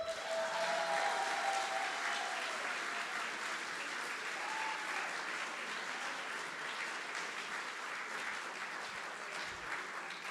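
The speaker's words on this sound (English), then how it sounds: "Another round of applause." At the 2022 ICPC SWERC programming contest closing ceremony, a hall audience gives a steady, even round of applause that holds for about ten seconds at a fairly soft, distant level.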